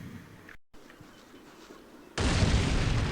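Artillery in the World War II wargame Combat Mission Rome to Victory, with a faint distant rumble that breaks off briefly and then gives way to one loud, sustained roaring blast.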